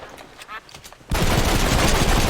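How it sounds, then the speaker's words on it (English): Red Dead Redemption gunfire as a body is riddled with bullets: after a quieter stretch with faint speech, a sudden dense burst of loud, continuous rapid shots fills the rest. "I'm going to unload every bullet I have in every gun on the"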